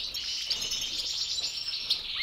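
A male goldfinch chirps near its nest, a few soft, high tweets over quiet background.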